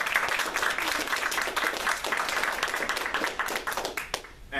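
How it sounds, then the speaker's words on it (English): Audience applause fills a press club hall during a lobby day event: dense, steady clapping that holds at an even level for several seconds before tapering slightly at the end. "I don't think they got a round of applause."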